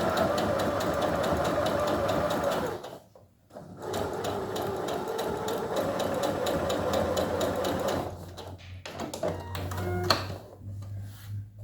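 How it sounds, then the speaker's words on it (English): A sewing machine stitches down the side of a quilt block, a close, rapid needle rattle in long runs broken by a short pause and a few clicks near the end. "and then we sew down the left side."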